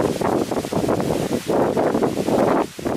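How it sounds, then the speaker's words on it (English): Gusty wind buffets the microphone in loud, rumbling bursts, rising and dropping over a few seconds with no voices. "Very windy."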